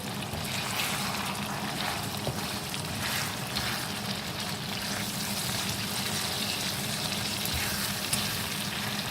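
Mutton karahi cooked restaurant style with black pepper fries in a pan, giving a dense, steady sizzle that stays loud and continuous without any voices.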